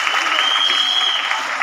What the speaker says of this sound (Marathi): सर्व सखी प्रतिनिधीसाठी एक जोरात टाळ्या होऊन जाऊ द्या